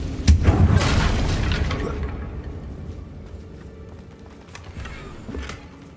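Confringo fire spell blasting in a Harry Potter video game: a sharp booming burst at the start that decays into a rumbling tail, with a voice speaking over it.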